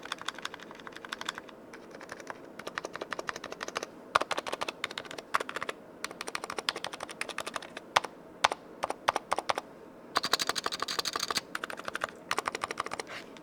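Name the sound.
Razer optical linear switch keyboard typing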